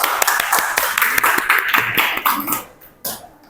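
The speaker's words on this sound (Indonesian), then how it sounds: "Tepuk tangan." Students applauding in a classroom, a burst of many hands clapping close and loud that thins into scattered claps and fades out, with a voice briefly heard among them.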